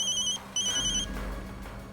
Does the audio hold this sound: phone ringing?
yes